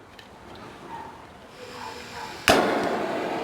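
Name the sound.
kitchen torch caramelising sugar on crème brûlée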